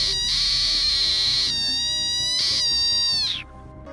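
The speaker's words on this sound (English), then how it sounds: "It inflates like a balloon and lets out a piercing squeal." An inflated African rain frog, dug up from the ground, lets out piercing high-pitched squeals in several sustained bursts, close and loud, with no talk.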